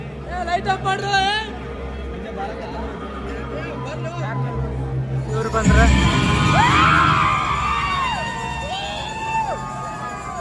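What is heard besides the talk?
cinema crowd hubbub and cheering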